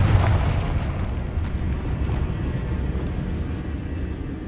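Confringo spell explosion in Hogwarts Legacy, set in a decaying catacomb: a loud booming blast with a rumbling tail that fills the space for several seconds.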